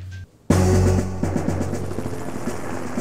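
Helicopter in a Command & Conquer video game cutscene: after a brief near-silent gap, a loud, close rotor drone with rhythmic chopping starts abruptly and keeps going.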